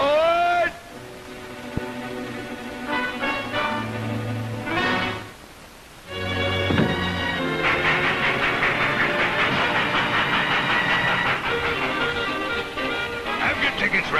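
A steam train in a 1947 animated cartoon hisses and chugs loudly, with rising whistle-like tones, a brief lull midway, then steady rolling clatter as it gets underway.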